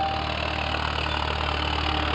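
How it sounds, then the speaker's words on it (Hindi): A tractor engine runs at a steady idle with an even low drone and a constant hum, and no voices are heard. "क्या देख रहा है बेटा? ट्रैक्टर? हाँ दादू, ट्रैक्टर।"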